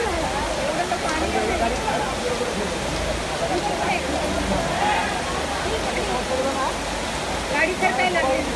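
Floodwater rushes along a road turned river during heavy rain in Nashik, a dense continuous roar with steady splashing, while voices talk faintly underneath.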